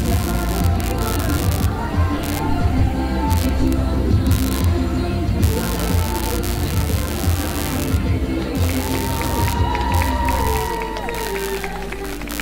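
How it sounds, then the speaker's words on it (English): Crowd at a beach volleyball tournament in Weymouth cheering and applauding the finalists, a steady dense roar of clapping and voices with a faint whistle-like tone near the end. "Ladies and gentlemen, all the performance, give them a round of applause"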